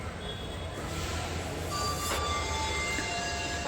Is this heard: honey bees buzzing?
no